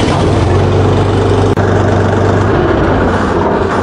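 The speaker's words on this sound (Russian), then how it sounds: "Мотор, кстати, работает неплохо" A Chinese tractor engine with about 48 hours of use runs at a steady idle, a loud, close, low rumble with a constant pulsing drone and one brief dropout midway.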